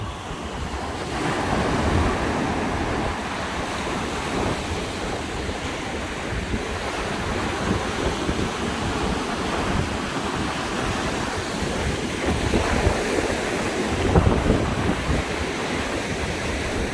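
Strong wind and breaking surf at Iho Tewoo beach on Jeju, a loud, steady roar of waves and gusting wind buffeting the microphone, continuous for the whole stretch with no voices.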